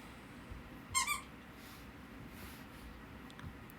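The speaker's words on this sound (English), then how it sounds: "That's my dog playing with her toy." A dog plays with a beeping squeaky toy indoors, giving a quick pair of faint, high electronic beeps, then only quiet room tone with a soft thump or two.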